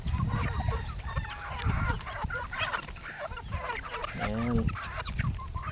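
Chickens in a breeding pen cluck and squawk in a busy, overlapping chorus close by. A brief honk-like call stands out, and a voice speaks faintly.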